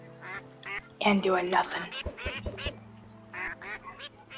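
Ducks in the Minecraft video game quack in short bursts, several nasal calls spread through the stretch, some under a person talking.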